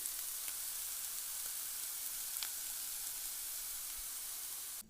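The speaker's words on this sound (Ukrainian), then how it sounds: "Обсмажуємо моркву і цибулю на олії до готовності." Carrots and onions fry in oil, a steady soft sizzle and hiss with a few faint ticks, close and alone with no voices.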